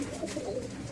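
A banded pigeon coos softly nearby in a short, low, throaty burble with no one talking over it.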